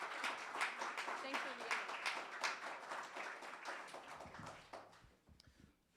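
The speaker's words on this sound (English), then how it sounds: "Everybody give him a big round of applause." Crowd applause at an art dedication event fills the clip, dense clapping running steadily under a speaking voice before tapering off near the end.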